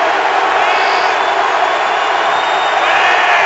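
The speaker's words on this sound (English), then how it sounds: "a raucous crowd at Heinz Field tonight" A raucous stadium crowd at Heinz Field roars steadily during a Ravens at Steelers NFL game, a dense, loud, unbroken wash of cheering that swells slightly near the end.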